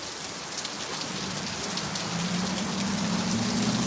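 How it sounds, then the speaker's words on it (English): Torrential rain from a thunderstorm pours down in a thick, steady roar, loud and close, with no voices and a low hum growing slightly stronger beneath it. "Heavy rain, just a lot of rain falling down."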